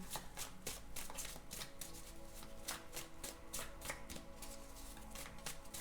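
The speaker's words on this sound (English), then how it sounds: "I'm just going to shuffle till it pops out" A deck of tarot-style playing cards is shuffled repeatedly, giving a quiet, rhythmic run of crisp riffling snaps and papery flutters, close up with no voices.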